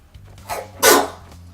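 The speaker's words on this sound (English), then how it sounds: "Like you coughed, gagged, and sneezed at the same time." A sudden sneeze mixed with a cough and gag, one short choked catch followed by a louder explosive burst of breath, close and alone over a low steady background hum.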